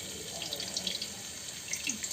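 Water poured into tamarind pulp in a home kitchen: a soft, steady trickle with light splashy drips, close and moderate in level, lasting about two seconds without speech.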